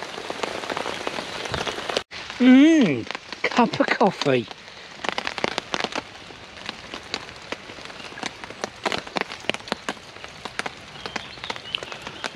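Steady rain patters on a tarp at a wet UK woodland camp, dense and continuous throughout, with a voice talking briefly near the start over the drumming drops.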